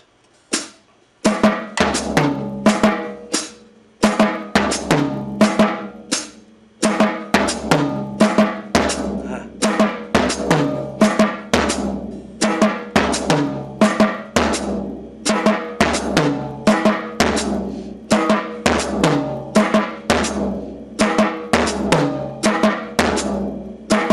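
A drum kit plays a left-hand baião pattern, strokes repeating in a steady, syncopated rhythm, sharp hits ringing close and loud, with no talking.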